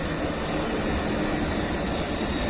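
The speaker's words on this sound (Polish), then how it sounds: "na lokomotywie i trzech pudłach a przeważnie jeżdżą tutaj piętrowe City Elefanty" A passenger train of a locomotive hauling three carriages rolls past close by, a loud continuous rumble of wheels on rails with a high steady squeal above it, no voices.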